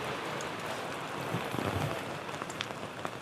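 Rain falls steadily and close, a dense, even hiss of drops on surfaces with a few louder splatters, while a POCO X3 NFC phone is flown outdoors in the downpour.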